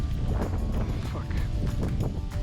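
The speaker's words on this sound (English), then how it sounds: "And it's also a windy, yeah? Quite a strong one." Strong wind buffets an outdoor microphone during a pigeon shoot in Africa, a steady loud rumbling roar with gusty swells lasting throughout, while people talk underneath.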